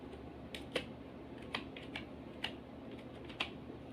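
Typing on a computer keyboard during data entry, sparse separate key taps and a few sharper clicks over about four seconds, close and fairly quiet against a faint room hum, with no talk.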